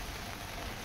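Heavy rain pours steadily in a continuous dense hiss, loud and close throughout, with no talk.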